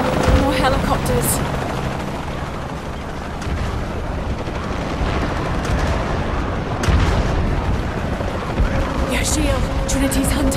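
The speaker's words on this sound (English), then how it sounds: "Helicopters." Dense, continuous rotor roar from helicopters in the game Shadow of the Tomb Raider, with scattered booms and gunfire mixed into a loud battle din.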